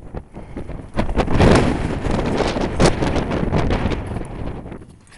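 Mountain wind buffeting a microphone on a high summit, a steady broadband rumble that swells and gusts throughout, loud and close.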